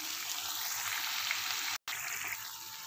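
Chicken and capsicum frying in a pan, a steady close hiss of sizzling that is briefly cut by a short gap of silence, then resumes at the same even level.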